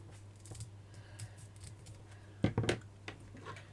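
Scissors cutting a piece of material flat for a handmade miniature boxed kitchen diorama, a cluster of quick sharp snips in the middle over a quiet room with a low steady hum.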